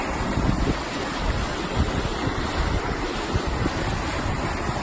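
River water rushing loudly and steadily as an off-road vehicle is winched across a creek, a dense continuous wash of flowing water close by.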